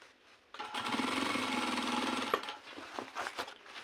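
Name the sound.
sewing machine stitching a trouser hem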